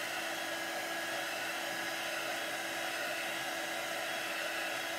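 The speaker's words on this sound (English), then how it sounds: "I'm using my handy dandy heat tool" A Recollections heat tool blows hot air to dry paint, a steady close whirring hiss that holds at an even level throughout, with no talking.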